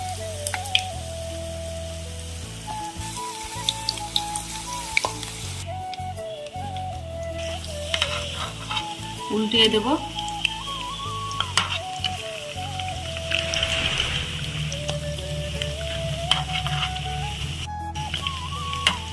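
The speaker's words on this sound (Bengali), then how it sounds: "মাখিয়ে নেওয়া হয়ে গেল এবার তেলে ভেজে" Batter-coated spiral potato sticks fry in oil in a pan, giving a steady crackling sizzle with occasional scraping and clicks from turning them; a voice speaks briefly.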